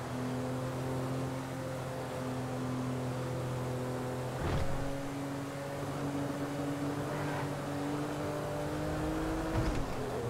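Car engine in Grand Theft Auto V, a sluggish car driving along with a steady droning hum and a couple of brief bumps, continuous and fairly loud with no talking.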